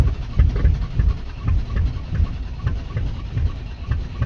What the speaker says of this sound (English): It's a cold start with no glow plugs.